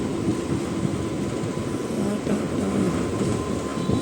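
MMTS suburban train on its inaugural-day run through a residential area, rumbling steadily and fairly loud throughout, a broad continuous roar of wheels and carriage noise with no voices over it.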